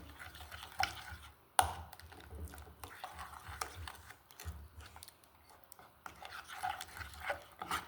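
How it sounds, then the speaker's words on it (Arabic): Crushed garlic being stirred together with spices for Tunisian mloukhia, heard as quiet, close scraping and soft irregular clicks with one sharper knock, with no talk. "نخلطوا هذم كلها مع بعضهم بالقدا بالقدا"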